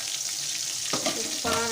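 Fish curry simmers and bubbles in a pan, with a soft continuous sizzle and a couple of louder stirring or bubbling bursts near the end.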